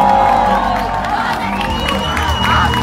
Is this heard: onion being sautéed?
no